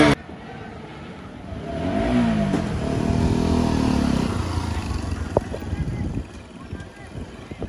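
A motorcycle engine starts and revs up, building to a rough, rising drone that holds for a couple of seconds before settling into a lower idle with scattered clatter.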